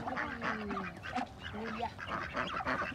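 Ducks and geese being fed scraps of mango fruit, quacking and honking repeatedly in a busy, overlapping chorus close by, with steady flock noise throughout.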